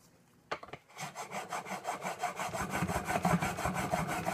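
A coffin smoother plane iron is rubbed back and forth on abrasive grit, giving a close, rhythmic gritty scraping of steady strokes after a few sharp knocks as it is set down, with no speech.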